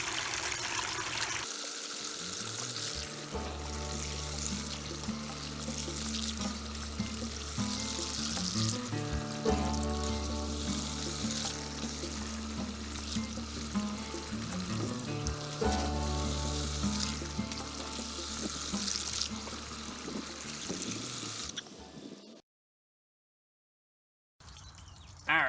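Water pumped through a Gold Cube sluice while running gold tailings gives a steady rushing, splashing wash with a low pump hum for about twenty seconds, then cuts to silence before a brief noise returns.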